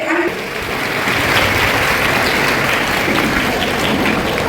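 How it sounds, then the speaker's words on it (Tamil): Loud, dense applause from a crowd at a Women's Day conference, clapping steadily and evenly throughout, close and filling the space. "அவங்களுக்கு ஒரு பெரிய கைத்தட்டல் அனைவரும் கொடுக்கணும் என்று"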